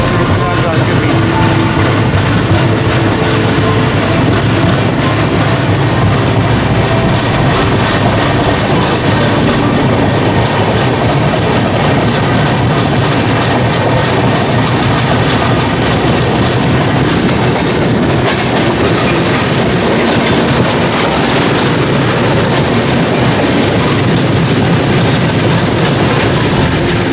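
The Prayagraj Express passenger train rolls along the rails on a night journey, a loud, steady, close rumble with continuous clattering wheels and occasional squeals lasting the whole stretch.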